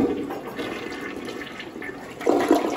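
A toilet flushes with a rushing, gurgling swirl of water, close and fairly loud, the surge swelling again near the end.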